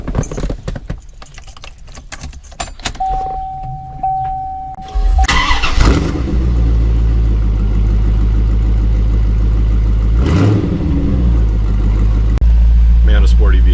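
A C4 Corvette V8 is cranked and fires up in a single-car garage, catching after some clicks and rattles, then settling into a loud, steady rumble with a brief rev partway through.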